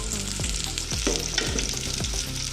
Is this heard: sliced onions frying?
yes